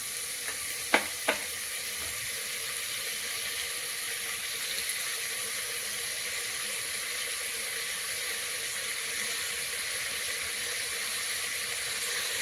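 Chopped onions and mutton bones frying in oil on a high flame, a steady loud sizzle with two quick clatters of a utensil against the pan near the start.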